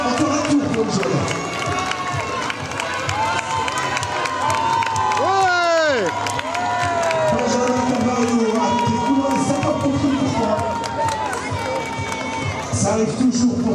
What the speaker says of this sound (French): faites du bruit, vos applaudissements, encore un tour pour les chevalettes